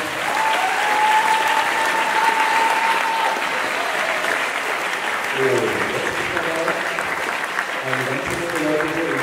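Loud, sustained audience applause fills a school project concert hall, with dense clapping throughout and voices and faint tonal sounds mixed in toward the end.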